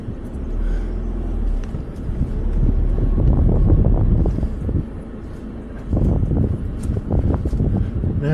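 A four-wheel drive climbing over sand dunes at Wilbinga, its engine a steady low rumble mixed with buffeting wind noise, swelling louder in the middle and again near the end.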